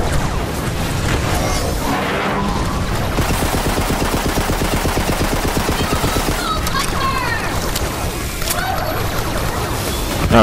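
Rapid bursts of loud gunfire from a gun in Borderlands 3, mixed with explosive booms and game clatter, continuous and close with a voice talking over it at times.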